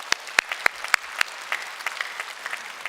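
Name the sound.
church congregation applause for the kitchen staff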